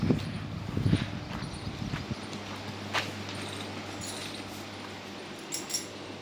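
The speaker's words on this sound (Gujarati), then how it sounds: "અમારા રાજુભાઈની ઘોડી જોજો ઘોડીનો પાવર." A Panchkalyan mare's hooves clop loudly and irregularly for the first two seconds, then give way to a steady low hum with a few faint ticks and clicks, and no one speaks.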